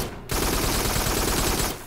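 A gun shooting at enemies in the VR shooter Farpoint, one continuous roaring burst of rapid fire lasting about a second and a half after a short quiet start, loud and close.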